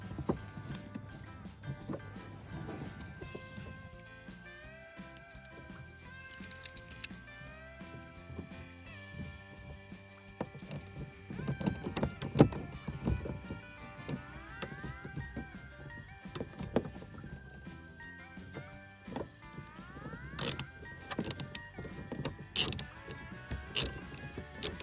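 Mechanic working on a 1995 Ford F350 7.3 bolting down a camshaft sensor, with a long stretch of faint metallic clicks, ratcheting and tool taps in close range, irregular and low against a quiet background.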